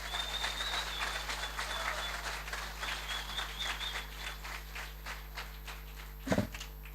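Applause from the audience at a university graduation ceremony, a soft and distant patter of many hands continuing throughout, with a louder thump near the end.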